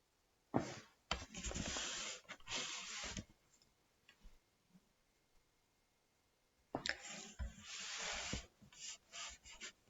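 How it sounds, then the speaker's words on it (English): Rice being washed in a strainer for Jamaican seasoned rice: two quiet bursts of gritty rustling and swishing grains, each a few seconds long, separated by a near-silent pause. "I'm washing my rice in a strainer"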